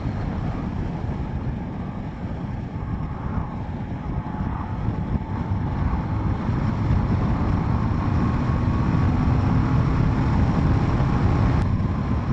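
A Zontes T310-T motorcycle cruising at 60 mph in sixth gear in eco mode, its steady engine drone heavily mixed with constant loud wind rush across the whole stretch.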